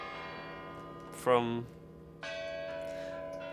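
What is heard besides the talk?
loud bells of the Kremlin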